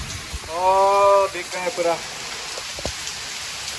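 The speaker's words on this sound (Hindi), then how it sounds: "देखो देखो कितना बारिश हो रहा है।" Heavy rain pouring down in Bangalore, a steady broadband hiss of falling water throughout, with someone speaking briefly over it near the start.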